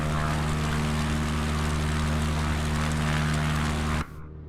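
A propeller plane engine in a flight simulator game drones loud and steady, then cuts abruptly to a much quieter hum near the end.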